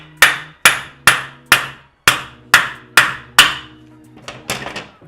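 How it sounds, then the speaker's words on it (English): A hammer strikes a piece of wood, driving a swing arm adjuster into place. Nine sharp, evenly spaced blows land close by, then a couple of lighter, quicker taps at the end. "So if we don't have a rubber mallet, we're going to use a piece of wood and a hammer"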